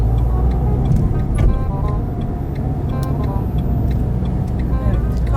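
A car pulls away from a green light in first gear, its steady engine hum loud and continuous alongside faint ticking from the cabin.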